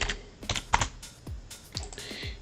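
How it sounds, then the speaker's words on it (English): Someone types on a computer keyboard in uneven, separate clicks and short runs of keystrokes, close and clear, with no voices. "Even though I'm typing it terribly."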